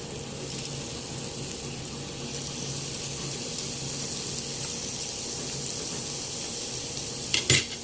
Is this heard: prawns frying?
yes